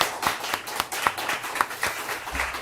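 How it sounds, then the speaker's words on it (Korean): A church congregation claps together in a brief round of encouraging applause, moderately loud and fairly close, the individual hand claps distinct against a quiet room. "격려의 박수 함께 먼저 했으면 좋겠습니다"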